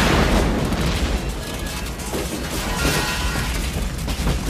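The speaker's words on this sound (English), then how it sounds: "Grenade." A grenade blast in a Judge Dredd setting, heard as a loud, dense, rumbling burst of noise that holds for several seconds with debris-like crackle, up close and with no voices.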